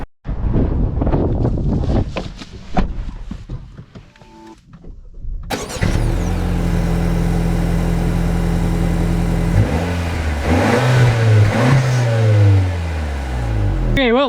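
A 2025 Honda Accord 1.5T SE sets off, its turbo engine rising through the gears with audible revving sweeps over strong wind buffeting, after some brief handling noises at the start.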